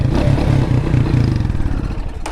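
A motorcycle engine revs loudly up close, its pulsing tone rising and falling before fading and sputtering near the end.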